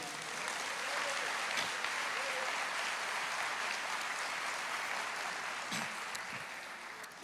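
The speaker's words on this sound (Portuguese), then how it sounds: "Você pode aplaudir o Senhor?" A church congregation applauds together in an even, rushing wash of clapping that lasts around seven seconds. It sounds moderately distant and fairly soft, with a few sharper claps standing out.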